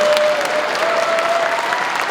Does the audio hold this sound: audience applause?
yes